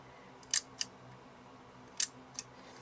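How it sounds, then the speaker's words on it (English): Shutter of an Agfa Billy Record 8.8 folding camera clicking, two crisp paired snaps close up, each a sharp click followed by a softer second click, separated by a short pause in a quiet room. "And the shutter is actually fine."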